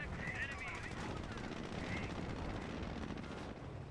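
Rapid bursts of video game gunfire crackle in a dense, continuous barrage, loud and sustained throughout with no pause.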